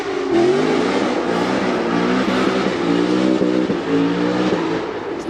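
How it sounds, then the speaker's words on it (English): A V8 Ford Mustang GTP doing a roller burnout down a street, its engine roaring loud and steady with a wavering rev pitch and a harsh, gritty edge throughout. "Doing a roller burnout down the street. It's a GTP. Yeah, it's a V8. That's the Mustang."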